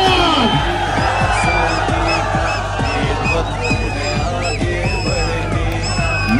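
Large outdoor political rally crowd at D-Chowk roars and cheers continuously, with dense sustained noise, whistles and shouts layered throughout, staying loud and steady for the whole stretch.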